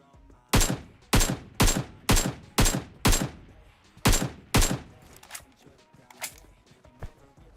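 Rapid gunfire in the PUBG Mobile battle royale game, near a school, with a run of about nine loud, sharp shots in quick rhythm followed by several fainter, more distant shots.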